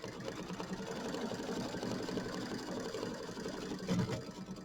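A sewing machine tacks down fabric on a mini quilt with a steady, continuous mechanical whir close by, holding an even level for the whole stretch.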